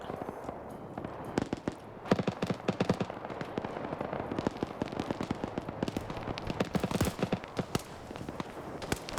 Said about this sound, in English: It's an airstrike.